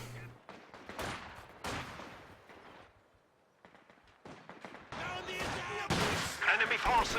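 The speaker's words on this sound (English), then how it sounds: "Double rifle grenades going into the garrison" Rifle grenades and gunfire ring out in a Company of Heroes 2 battle as shots hit a garrisoned building, with loud bursts and blasts broken by short pauses under someone talking over them.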